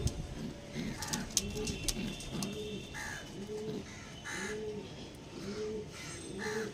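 Pigeons coo in a steady repeating rhythm after being let out, soft rounded calls close by, with occasional sharper clicks and distant bird noise around them.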